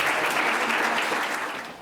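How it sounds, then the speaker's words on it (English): Applause from a symposium keynote audience, a dense steady clatter of many hands throughout, tapering slightly at the end, with a faint voice briefly underneath. "Let's just give them another round of applause."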